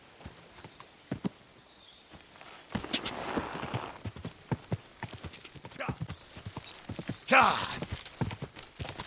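Steady clip-clop of horse hooves on a hard surface in the video game Kingdom Come: Deliverance 2, with a brief whinny-like burst near the end and faint chatter of voices in the background.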